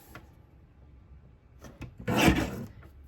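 A paper trimmer slices through cardstock during a card-kit workshop: faint clicks and rustles, then a short, close scraping rasp as the blade runs across the sheet near the end.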